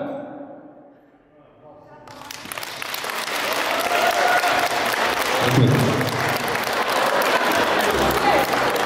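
At a wedding party, an audience breaks into loud sustained applause after a brief quiet lull, the clapping building and holding dense and close while voices carry faintly underneath.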